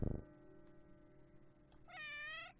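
A cat in the OneShot video game gives one short, bright meow near the end, following a soft low musical tone and a faint thump at the start.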